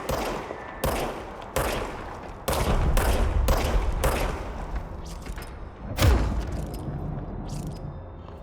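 Gunfire from a gun in the video game Corntrol: a run of loud, closely spaced shots in bursts, each a sharp broadband crack, with a heavier thump near the end and a continuous rumble between shots.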